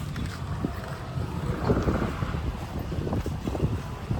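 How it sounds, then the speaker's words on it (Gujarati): Steady blustery sea wind buffets the microphone at Porbandar Chowpatty beach near a jetty with boats, a continuous low rumble with faint surf underneath and no talk. "તો મિત્રો આ પોરબંદરની ચોપાટી"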